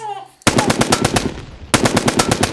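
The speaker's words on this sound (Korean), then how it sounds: "굴다리 속으로 총성이 날아들었다." Rapid automatic gunfire, used as a sound effect for shots fired into a railway underpass at No Gun Ri, comes in two loud, close bursts of fast, evenly spaced shots after a brief quiet start.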